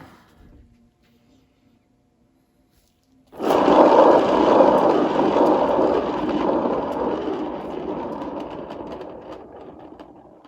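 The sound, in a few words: spinning acrylic paint pour on a spinner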